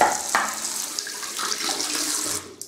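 Hot water runs from a tap in a shaving setup, a steady close hiss and splash with soft gurgles and a few small knocks, ending with a brief clatter.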